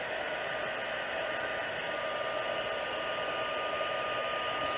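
A heat tool blows a steady, loud, unbroken whoosh of hot air, melting white embossing powder on a paper-crafting project, with no voices over it.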